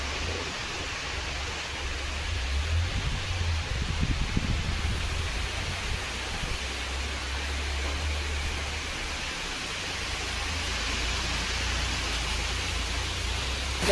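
Heavy monsoon rain pouring steadily near a dam, a dense, even roar of hiss and patter that stays loud and unbroken from start to finish, with no voices.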